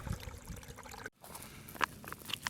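Stream water trickles and gurgles into a bottle held among grass on Blackwood Hill, soft and close, with small splashes and one brief gap partway through, no voices.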